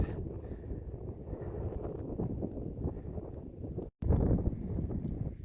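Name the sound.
strong wind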